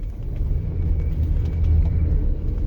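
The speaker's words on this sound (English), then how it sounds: "this is a 1995 Lincoln Continental with the stupid air ride suspension that was switched over" A 1995 Lincoln Continental with converted air ride suspension, its engine giving a steady low rumble heard from inside or close by, continuous throughout with no talking.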